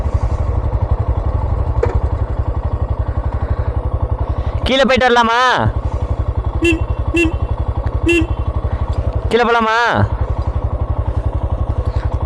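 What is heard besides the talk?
motorcycle engine idling on a mountain road in Ladakh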